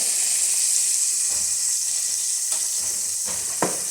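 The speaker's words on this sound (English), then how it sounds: "I've got a perfect sear all the way around on all 6 sides." Sous vide pork tenderloin sears in a hot pan on the stove: a steady, close, bright sizzle hisses throughout, with a few soft clicks and shifts near the end and no talking.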